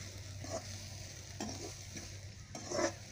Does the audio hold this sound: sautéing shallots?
yes